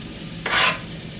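Diced onion hits a hot pan for a street corn recipe, giving a sudden bright sizzle that swells for about a third of a second and then settles back into a quiet kitchen background, with no talking.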